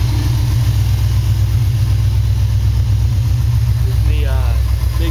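A Ford Galaxie big-block V8 with Mad Dog headers, 3-inch piping, an X-pipe and a Flowmaster Super 44 idles with a loud, close, lumpy burble, and a brief squeal or chirp comes near the end.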